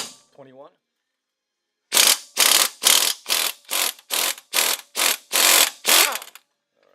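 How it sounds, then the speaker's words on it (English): Pneumatic impact wrench hammering loose the front lower control arm bolt on a 2008 Mercedes-Benz GL320 CDI, about ten loud rapid bursts in a steady rhythm, close by, after a short spoken phrase. "Put an impact on it."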